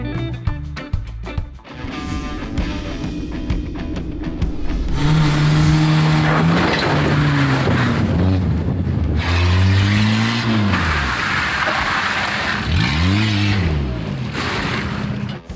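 A Citroën C15 car engine revs hard in repeated rising and falling sweeps, loud and close, after a sputtering start with uneven bursts of ignition.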